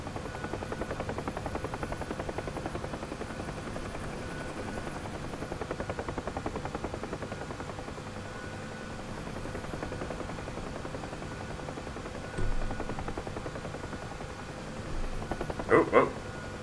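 Bell UH-1 Huey helicopter in the DCS flight simulator, a steady droning rotor thump and turbine whine that runs continuously and close throughout, with a few louder bumps near the end.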